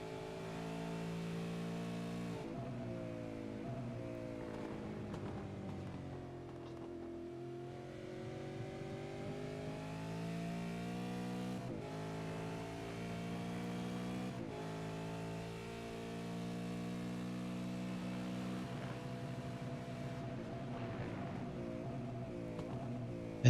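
A V8 race car engine in an esports racing game at Phillip Island revs and accelerates through rising and falling gear sweeps, loud and continuous, with brief dips where it shifts or brakes.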